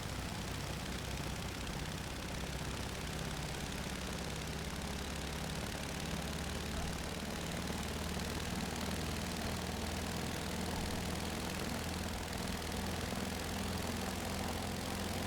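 Beech 17 biplane radial engine running at takeoff power in Microsoft Flight Simulator 2024, a steady, even, low droning roar that holds unchanged and fairly quiet throughout, with no voices.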